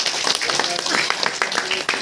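Wedding guests at an Indian wedding clapping, a dense burst of many hands close by, with voices talking over it.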